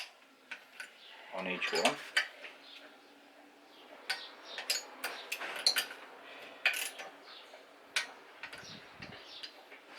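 A torque wrench set to 8 newton-metres tightens bolts in a crossways pattern, making repeated sharp ratcheting ticks and clicks in uneven bursts under a man's occasional speech.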